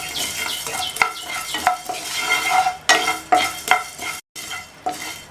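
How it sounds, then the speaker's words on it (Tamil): Coriander seeds dry roasting in a pan while a spoon stirs them, rhythmic scraping and rattling strokes with crisp seed clatter, close and fairly loud, with a brief pause near the end. "கால் கப்பு கொத்தமல்லி விதையை இதில் சேர்த்துட்டு இதையும் நல்லா சூடு ஏற வரையும் வறுத்துக்கலாம்"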